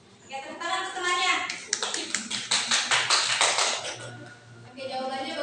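Students in a classroom clap for a classmate during a teaching practice lesson, a brief burst of sharp, quick hand claps that swells in the middle, with children's voices and a teacher talking around it.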